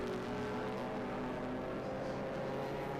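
Vintage race car at speed on the Holman straightaway at Indianapolis Motor Speedway, a loud continuous engine drone holding steady throughout with no voices.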